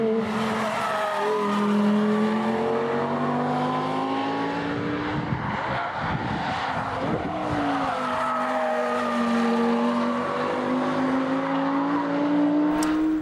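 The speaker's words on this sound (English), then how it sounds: "we have a clip here of the R8, the new one, heavily camouflaged, right. but caught in action in the Nürburgring in Germany" A heavily camouflaged new Audi R8 prototype drives at the Nürburgring in Germany, its engine note rising and falling through gear changes with brief tyre squeal, loud and continuous throughout.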